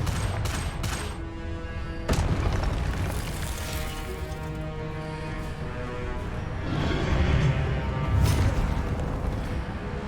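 Confringo blasting spell explosion in a Harry Potter video game, a sharp blast opening into rumbling, dense booming and crackling with another burst partway through, over layered game music and effects.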